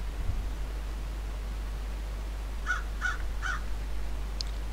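Three short crow caws from Hello Neighbor Alpha 2, evenly spaced in a quick run, set over a steady low hum and faint background hiss, followed by a brief high chirp.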